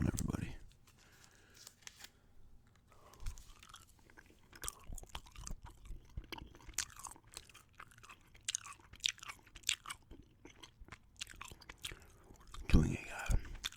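Gum chewing close to the microphone, with wet smacking and crunchy chews in an irregular rhythm, quiet at first and growing busier, under occasional soft talk.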